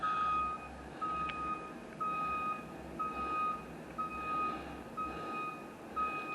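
A truck at a roadside construction site sounds steady, evenly spaced reversing beeps over a low engine rumble and traffic noise, moderately distant, with no talk.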